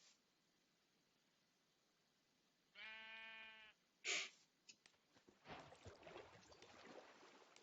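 Sheep bleating in Hungry World, a blocky Minecraft-like game: one drawn-out bleat, then a sharp short effect, followed by a burst of rustling, scuffling game sounds, all fairly quiet.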